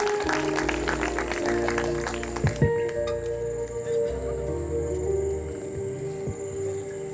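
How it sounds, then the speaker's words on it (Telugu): An audience at a Baptist church Christmas celebration claps to welcome a speaker to the stage, a busy patter of hands over music for a few seconds before it thins out and a sustained musical tone carries on. "చప్పట్లు కొడుతూ అన్నయ్యని స్టేజ్ మీదకి ఆహ్వానిద్దాం."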